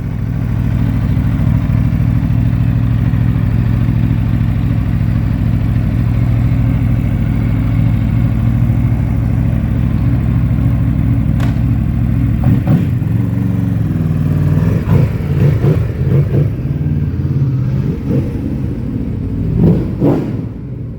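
A 2019 Aprilia RSV4 1100 Factory fitted with LighTech rearsets, out on a test ride: a loud, steady engine drone runs close for a long stretch, then breaks into uneven revving bursts and throttle blips toward the end.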